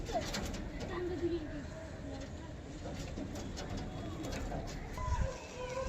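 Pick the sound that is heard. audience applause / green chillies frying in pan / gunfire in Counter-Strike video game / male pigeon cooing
male pigeon cooing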